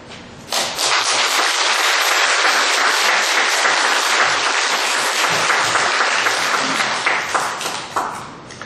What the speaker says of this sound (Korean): 우리 다 나오실 이제 목사님 나오실 때 다 박수로 우리 환영해 주시겠습니다